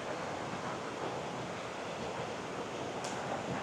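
Steady broadband rush of Sand Run Falls, a waterfall in Tioga State Forest, roaring continuously and evenly at close range with no break or voices.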